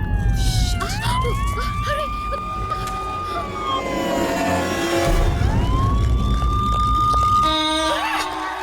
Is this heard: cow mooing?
no